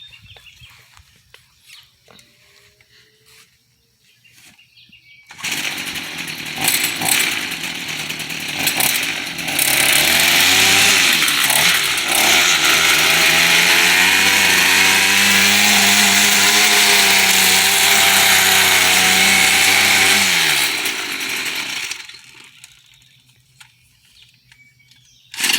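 STIHL FS 38 string trimmer engine starting and running after a spark plug cleaning, loud and close, with a whining two-stroke buzz that revs and holds for about fifteen seconds before cutting out.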